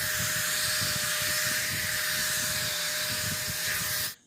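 Hair dryer blowing on hair after a smoothening treatment, a loud continuous airy whoosh with a steady tone that runs for about four seconds and then cuts off abruptly.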